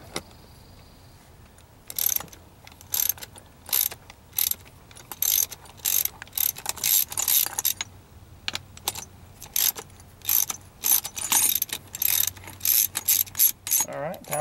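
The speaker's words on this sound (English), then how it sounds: "Taking our steering wheel puller back off." A steering wheel puller comes off the column of a 1981 Ford F150, giving sharp repeated ratcheting clicks and metallic jangles in quick bursts close to the microphone after a quiet opening.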